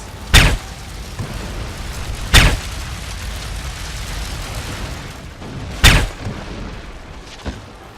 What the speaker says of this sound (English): if you get in trouble, firecrackers are the answer